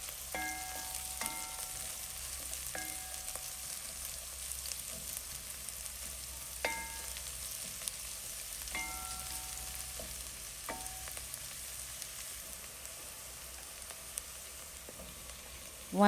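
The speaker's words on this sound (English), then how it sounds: "we go in with our garlic, our ginger, and our carrots, chopped carrots, and we let it stir fry for some minutes" Garlic, ginger and chopped carrots stir-fry in a pan for githeri, giving a steady soft sizzle with scattered clinks of a utensil against the pan at irregular intervals.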